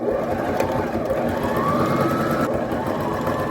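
A home sewing machine runs steadily at close range, stitching the sleeve of a shirt made from an old bedsheet, with a continuous motor whir and no talking.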